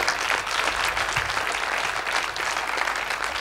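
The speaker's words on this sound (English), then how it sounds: "we do owe everyone at Fanfest a huge, huge round of applause" Dense, steady audience applause fills the hall at Fanfest 2014, a continuous wash of clapping at an even level for several seconds with no voices standing out.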